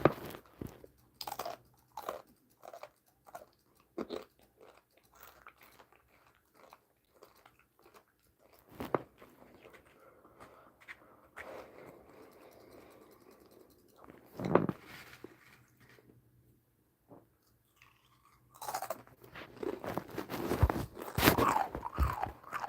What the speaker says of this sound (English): excuse the chewing